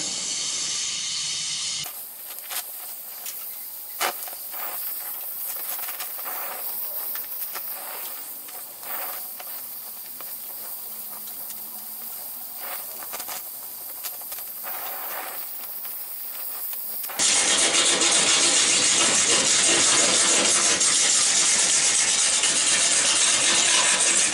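Brazing on the steel sill of a Citroën Traction 11 car body produces a continuous torch hiss with faint crackles and ticks, then a louder, harsher rush of gas in the final stretch.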